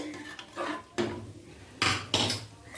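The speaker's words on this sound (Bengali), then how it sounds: "আমি কুকারের গায়েতেই ডালটাকে একটু ম্যাশ করে নেব" Dal being mashed against the inside wall of a pressure cooker for tarka dal, giving a few distinct metallic scrapes and knocks at an irregular pace, close and fairly loud, with no talking.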